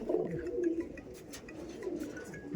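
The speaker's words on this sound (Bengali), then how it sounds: "ওড়ার পায়রা চোখের পায়রা হিসেবেও নিতে পারেন" Madrasi pigeons coo in low, rolling bursts, several birds overlapping close by, with a faint chirp now and then.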